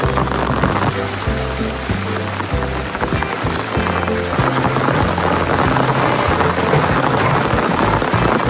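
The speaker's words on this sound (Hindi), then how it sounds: "सिर्फ ये नहीं है कि खाली बारिश हो रही है, हवा के साथ बारिश है।" Heavy rain with wind pours down steadily and loudly during rain camping in the Himalayas near Shimla, a dense and unbroken roar with no break.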